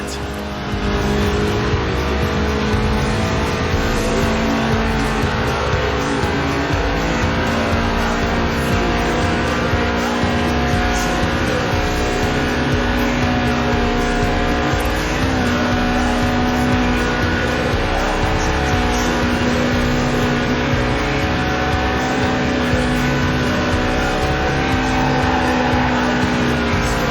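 A 1.8-litre, 190-horsepower lightweight car in Forza Horizon 4 screams at high revs toward 8,000 RPM, a loud, sustained engine howl with shifting pitch bands running alone throughout.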